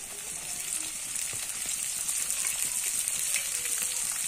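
Chopped onions fry with soya chunks in hot oil for a chilli soya dish, giving a steady, loud sizzle with no break and a few faint stirring taps under it.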